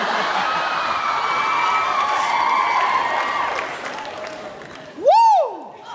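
Audience cheering and applauding after an X Factor Australia 2014 talent show audition, a sustained blend of claps and whoops under a voice, ending with a loud rising-and-falling whistle-like sweep.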